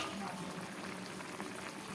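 A thin Bengali fish curry with small hilsa, ridge gourd and potato simmering on a low gas flame, a soft continuous bubbling, quiet and even throughout.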